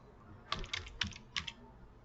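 Quick clicks from a computer keyboard while entering a formula in a spreadsheet: four or five close, crisp keystrokes within about a second, fairly quiet.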